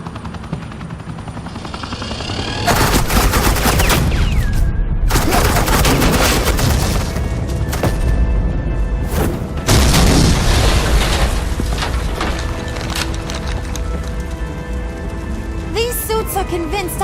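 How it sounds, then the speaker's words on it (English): Suppressing gunfire in Batman The Enemy Within: loud sustained automatic bursts with booming impacts and a helicopter-like roar, starting abruptly after a quiet lead-in and continuing densely to the end. "This is Agent Quinn, suppressing fire"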